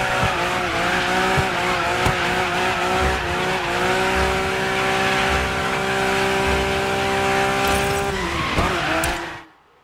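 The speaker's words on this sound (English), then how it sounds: "This car actually drifts quite nice." A Porsche drifts through a gymkhana course in the racing game Dirt 5, its engine droning loud and steady while its tires squeal in long skids before the sound cuts out abruptly at the end.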